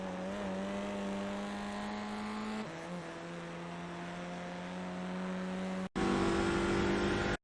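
Audi RS3 engine in the iRacing sim at Lime Rock Park, holding a steady loud drone as it accelerates uphill, with a brief dip near three seconds and a sharp upshift-like jump near six seconds, no talk.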